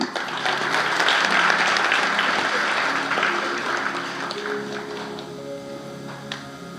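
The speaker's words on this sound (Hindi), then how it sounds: "ताली बजा दीजिए आप।" Audience clapping in a hall during a spiritual discourse, steady and moderately loud, tapering off toward the end as a sustained tone rises underneath.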